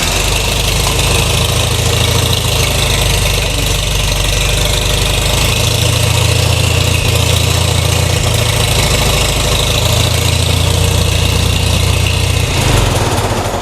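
A Farmall tractor engine, just reassembled after clutch replacement, runs loud and close with a steady rough idle and a continuous low chugging drone throughout.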